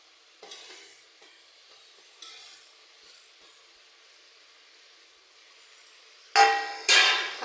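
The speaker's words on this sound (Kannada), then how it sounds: "ಕಾಯಿ ತುರಿ ಹಾಕಿದ್ಮೇಲೆ ಎಲ್ಲ ಮಿಕ್ಸ್ ಮಾಡೋಣ." Grated coconut stirred into huruli kayi palya, a horse gram stir-fry, in a frying pan: a faint continuous sizzle under scattered light scraping, then two louder spoon scrapes near the end.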